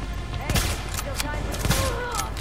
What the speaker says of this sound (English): See, my sniper rifle is not doing much there